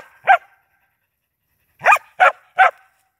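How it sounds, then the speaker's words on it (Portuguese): A hunting dog barks at a snake it has tracked down, one sharp bark followed after a pause by three quick barks in a row, close and loud against silence. "Cachorro comendo a cobra aí."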